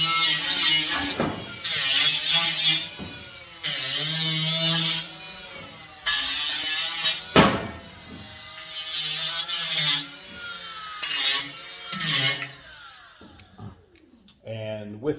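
A Milwaukee M12 Fuel die grinder deburring a steel C-channel whines in short bursts of a second or two, starting and stopping repeatedly at close range, with a person talking between and over the runs.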